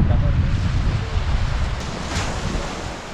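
Wind-driven water washes and churns at a beach, a steady broadband roar that is loudest at the start and eases slightly toward the end, with gusty wind buffeting the microphone throughout.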